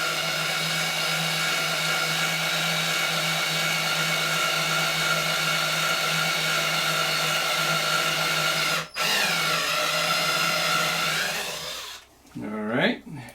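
Steady mechanical whir of a reamer cutting 30-06 brass cases to form 357 45 GWM, running loud and continuous for about nine seconds, then stopping briefly and restarting before winding down near the end.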